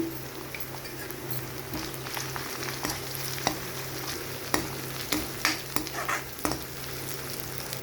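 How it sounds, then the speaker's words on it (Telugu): Ginger garlic paste frying in a pan for a tomato curry, a steady close sizzle with a low hum beneath and scattered clicks and scrapes of stirring, no voices. "అల్లం వెల్లిపాయ పేస్ట్ వేసుకోవాలండి."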